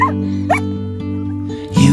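Puppies give short, high yips and whimpers in quick bursts close by, over a steady low background hum, ending with a louder cluster of cries.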